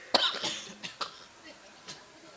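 A person coughs sharply once, then follows with a few weaker coughs and throat-clearing sounds, close and fairly quiet.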